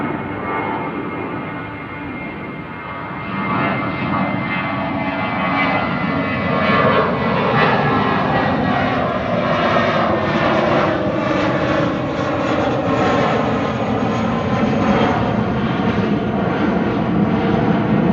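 Embraer E2 jet airliner at Manchester Airport, a loud sustained engine roar that swells after a few seconds and holds steady and close throughout, with no voices.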